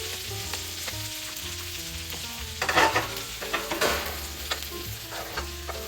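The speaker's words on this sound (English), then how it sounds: "I'm going to baste our steak with all that delicious flavor, garlic and rosemary and thyme flavor." Steak sizzling and frying in a pan as it is basted with butter, garlic, rosemary and thyme, a steady crackling hiss with louder spattering bursts as the fat is spooned over.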